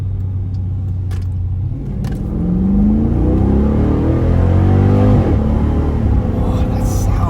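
A 2014 Jeep Grand Cherokee SRT with a 6.4L Hemi V8 in sport mode revs and accelerates, its deep rumble rising in pitch and swelling louder, with voices talking over the engine.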